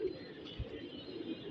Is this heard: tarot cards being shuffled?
no